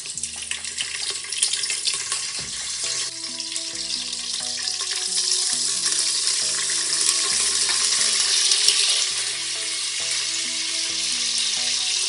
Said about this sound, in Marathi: तेल गरम झाले, आपण याच्यामध्ये कढीपत्ता टाकूया.